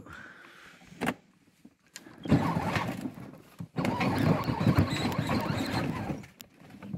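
A Power Wheels toy jeep drives in low gear, its electric motor whining in bursts with short gaps between, the drive growing louder and rougher over the second half.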